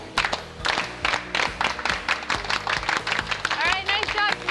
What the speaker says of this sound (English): Slow clap for today.